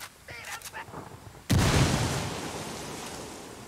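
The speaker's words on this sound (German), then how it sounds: "Granate fliegt." A grenade blast in the video game Ghost Recon Wildlands, a sudden loud boom that rolls into a long decaying rumble, preceded by a few faint shots and clicks.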